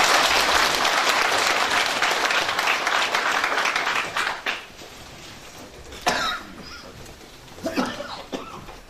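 Welcoming applause from an event audience at the 2014 Wando International Seaweed Expo, dense and loud at first, then thinning out and fading after about four seconds, with a few coughs and scattered claps left over.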